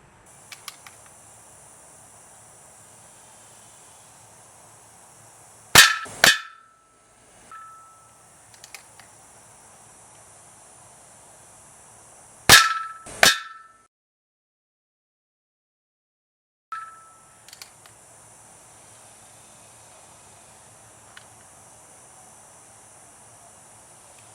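A Crosman 2240 CO2 air pistol fires at about 450 to 470 feet per second into a propane can, giving sharp paired cracks of shot and impact, widely spaced, over a faint insect-like hiss and near silence.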